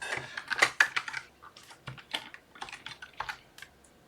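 Password being typed on a computer keyboard at a console, a quick run of close, crisp key clicks in uneven bursts, with no talking.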